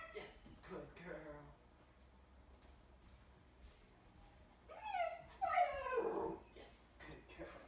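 A Vizsla dog gives low groaning whines and growly vocal sounds, building into a louder, drawn-out whimpering stretch midway before easing off, close to the listener.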